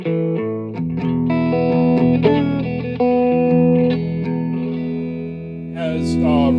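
An electric guitar plays through a 1966 Fender Deluxe amp with reverb, sounding sustained chords and single notes that ring and decay in a close, clear tone.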